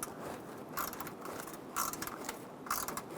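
A ratchet with an E5 socket clicks in quick bursts while loosening the impact sensor bolt on a 2014–2018 Chevrolet Silverado 1500, with three close, crisp runs of metallic ticking separated by short pauses.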